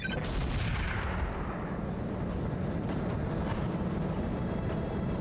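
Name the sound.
mech weapons firing in BattleTech video game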